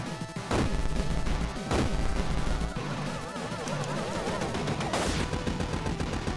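Gunfire in the Rex Rocket video game, with dense, loud bursts of shots and booming impacts over a continuous game soundtrack and no talking.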